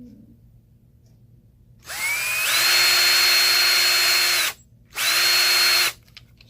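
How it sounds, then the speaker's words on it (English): A DeWalt DW920 cordless drill spins up with a rising whine into a steady high-pitched whir, stops briefly, then runs again in a second shorter burst, close and loud. "Keyless chuck, I mean, much better of a drill."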